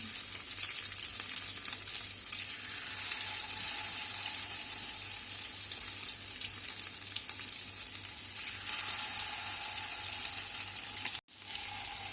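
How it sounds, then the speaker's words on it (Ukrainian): Chicken patties sizzle and crackle steadily in a hot pan, a continuous close frying hiss with no voices. "І так, смажимо до кінця."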